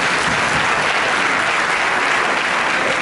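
A church congregation claps loudly for a visiting pastor at a blessings meeting, dense continuous applause filling the room evenly from start to finish with no talk over it.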